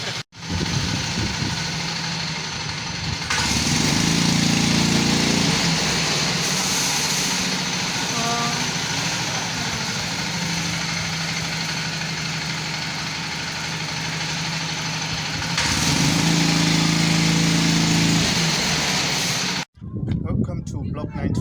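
A homemade car's engine idles steadily for a long stretch with a continuous rumbling drone, rising louder at moments before cutting off abruptly near the end, close by and without talk.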